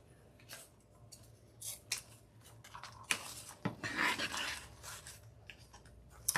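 Scissors snip deco mesh while a pink wreath on an evergreen base is trimmed, a run of sharp, close cuts in irregular bursts with soft rustling of mesh between them.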